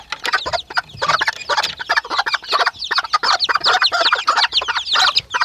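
A flock of chickens with around fifty chicks clucks and cheeps busily as they are let out of their coop, a dense, continuous chatter of close, overlapping calls.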